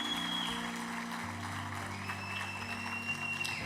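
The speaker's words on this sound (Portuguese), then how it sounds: "Uma salva de palmas para as mulheres." A church congregation claps for the women on International Women's Day, a steady wash of applause from a large room under a sustained musical backing of held organ or keyboard tones.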